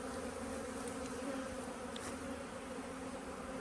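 Honeybees buzzing during a hive inspection, a constant, even drone that holds steady throughout at moderate level, with no voices.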